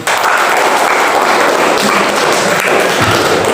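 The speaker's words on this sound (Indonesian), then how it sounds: "Tepuk tangan untuk Fadil." A classroom audience gives a loud, dense burst of clapping that stays steady for a few seconds, close and continuous.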